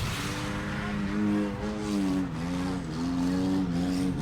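Cars in a skid race at Auburndale, a PT Cruiser among them, engines droning loudly with rising and falling pitch as they circle the track, no talk.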